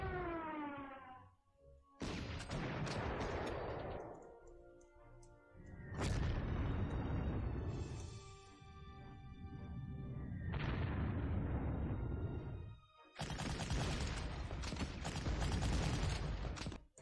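In the Panzer Corps wargame, artillery fire and explosions come in several loud booming bursts separated by short gaps, with rumbling blasts and mechanical clatter between them.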